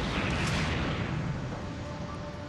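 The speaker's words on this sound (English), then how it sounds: "as Flight 800 gained altitude, a series of explosions destroyed the plane" A rumbling, roaring explosion from a documentary reenactment of a Boeing 747 airliner being destroyed in flight: a dense, continuous low roar that fades slightly, heard alone without speech.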